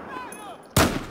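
An M16 rifle in Battlefield 4 fires a single loud, sharp long-range shot after a quieter stretch of faint ambient game sound, with a brief decaying tail.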